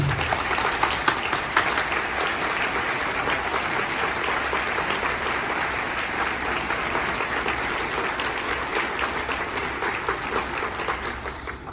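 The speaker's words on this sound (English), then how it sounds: "give them a round of applause for their efforts this weekend" Sustained audience applause after a band performance at a regional honor band concert, dense steady clapping from a large crowd that holds evenly for the whole stretch with no talk.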